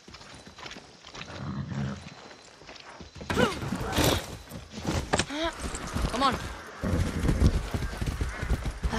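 Hoofbeats of a horse in the Far Cry 6 video game start up after a quieter opening and continue unevenly, mixed with other game noises, while someone speaks briefly.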